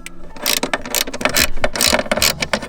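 A ratchet clicks rapidly in repeated bursts while undoing a 10 mm bolt in the engine bay of a Ford AU Falcon, loud and close, with short pauses between strokes.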